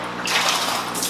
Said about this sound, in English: As always, good splash.